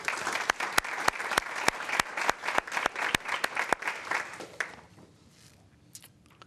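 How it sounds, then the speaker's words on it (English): A room at a school board meeting breaks into applause with sharp, distinct hand claps over a crowd, lasting several seconds before tapering off into near silence. "Round of applause, please"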